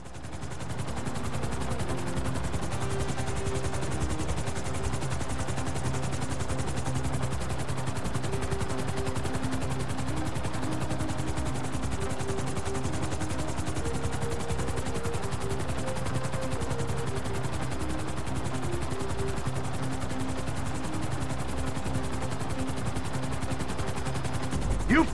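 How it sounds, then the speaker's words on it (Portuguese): Helicopter in the video game GTA 5 descending, a steady droning rotor whine that runs without a break, with gunfire and other game noise layered over it. "Eu subi demais, vou ter que descer com o helicóptero aqui."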